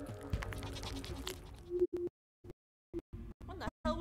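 A ghostly goat in a video game bleats in a hazy, layered wash, then several short, clipped bleat bursts follow with silent gaps between them.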